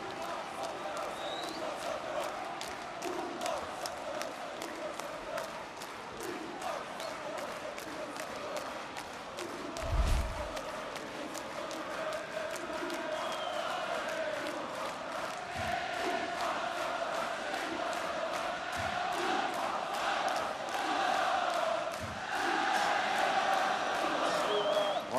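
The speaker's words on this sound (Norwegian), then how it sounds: "I Trønderleiren synges og danses det" Rosenborg supporters in a stadium stand sing and dance through a continuous crowd roar during the 2006 Brann versus Rosenborg match, with rhythmic clapping throughout and one dull thump in the middle.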